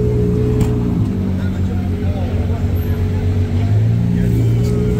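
A Ferrari 812 Competition supercar pulls away in Juan-les-Pins with a steady, loud engine drone that holds throughout, over crowd noise and voices.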